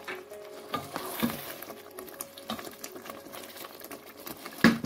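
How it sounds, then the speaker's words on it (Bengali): Fried eggplant pieces go into a pan of curry masala, giving a soft, steady sizzle with light stirring and scraping, faint and close with no talk. "এখন এটাতে ভেজে রাখা বেগুনগুলো দিয়ে দিচ্ছি।"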